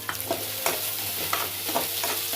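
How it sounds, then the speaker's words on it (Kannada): Paneer and capsicum sizzle in a hot pan, a continuous frying hiss broken by quick rhythmic scrapes of a spatula stirring the pieces, close and fairly loud. "ಇದನ್ನು ಒಂಚೂರು ಫ್ರೈ ಮಾಡ್ಕೊಳ್ಳೋಣ"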